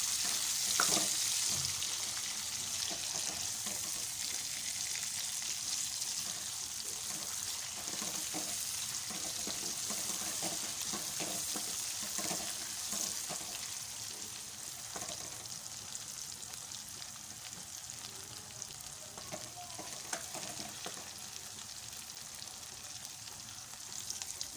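Chopped tomatoes sautéing in a pan for besan kadhi give off a continuous, even sizzle and crackle, broken by occasional faint scrapes of stirring, close but quiet throughout with no talking.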